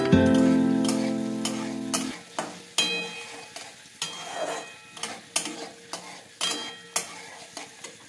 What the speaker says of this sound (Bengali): পেঁপেটা ভাজা হয়ে গেলে তার মধ্যে অ্যাড করে দেব গাজর।